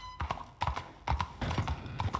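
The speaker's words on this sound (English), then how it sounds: "Hopefully my horse is here." Horse hooves clip-clop in a steady, close rhythm on a Western-style roleplay server, sharp repeated hoof strikes heard alone over a faint background.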